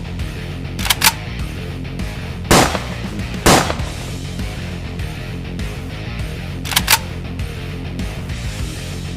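Cartoon gunshots ring out in an animated Sakura School Simulator fight scene, several sharp cracks heard alone, one pair early, two louder single shots mid-clip and another pair near the end.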